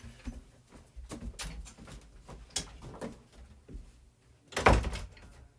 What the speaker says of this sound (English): let me close the door in my room